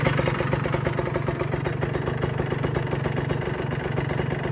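A motorcycle engine runs during a 3000 rpm test, a steady pulsing idle-like throb with rapid rhythmic clatter, close and fairly loud, continuous with no talking.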